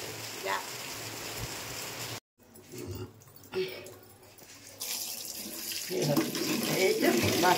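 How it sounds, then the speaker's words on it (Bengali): A tap runs into a sink while a girl washes dishes, steady splashing water with a brief cut and faint clinks, growing heavier toward the end. "এই যে বাসন মেজে নিয়ে মেয়েটা কল চলছে"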